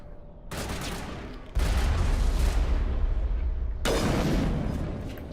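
Dense bursts of automatic gunfire and heavy booms from Mass Effect combat, a sustained loud fusillade that surges in intensity partway through, with no talk over it.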